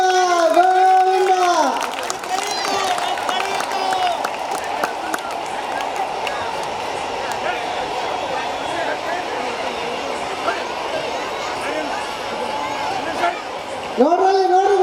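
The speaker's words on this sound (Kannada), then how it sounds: "ಈಗ ಚಪ್ಪಾಳೆ ಬರ್ತಾ ಇರ್ಬೇಕು ಬರೀ ಜೋರಾಗಿ ಚಪ್ಪಾಳೆ." An audience at a Navaratri festival magic show claps in a dense, continuous wash of applause for about twelve seconds, framed by a voice at the start and end.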